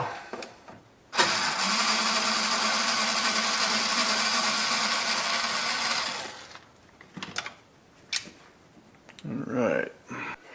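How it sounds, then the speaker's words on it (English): Screws come out of the cover of a Pioneer SX950 stereo receiver with a loud, steady whir lasting about five seconds, followed by scattered metallic clicks and handling noises. "let me get the last of these screws out of here."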